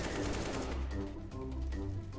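Counter-Strike: Global Offensive sniper fire, a few heavy booming shots over a short stretch, fairly close, with no talking.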